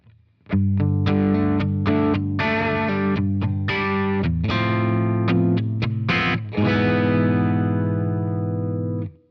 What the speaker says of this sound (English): This is a blues breaker type circuit.